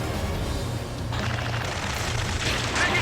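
Gunfire in Ace Combat 7 during a rescue mission, a dense, continuous rumble of shooting and booms with radio chatter-like effects, steady and loud throughout.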